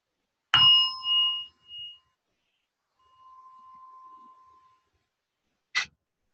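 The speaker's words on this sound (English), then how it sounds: "And we'll start with the bell." A meditation bell is struck once, a bright ding whose pure tone rings out and fades over several seconds in a quiet room, then a short sharp click near the end.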